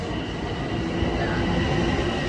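A deadhead train, running express, passes through Mineola station with a loud, steady rumble of wheels and cars that fills the whole stretch without letup.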